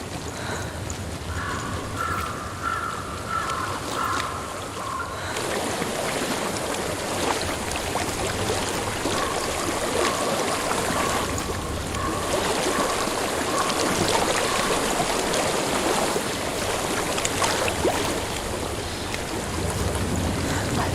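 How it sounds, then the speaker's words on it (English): Stream water flowing through a wild landscape in Hellblade: Senua's Sacrifice, a steady broadband rush that carries on for the whole stretch, with a faint tonal hum early on and wind-like noise mixed in. "I hear water."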